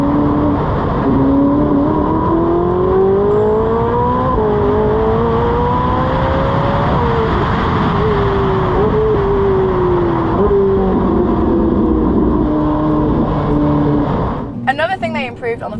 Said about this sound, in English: You'll be listening to that V8 in the back.